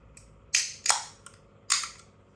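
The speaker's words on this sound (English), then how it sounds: "A little bit of smoke on the can opening," A can of McEwan's Export beer is opened, giving a few sharp, close clicks and pops spread over about two seconds, with short hissy tails and no talking.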